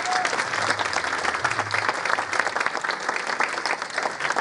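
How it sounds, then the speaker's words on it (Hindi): Loud, steady applause from an audience at a mushaera, a poetry gathering, with dense, continuous clapping throughout and no talking over it. "इसके लिए ज़ोरदार तालियां"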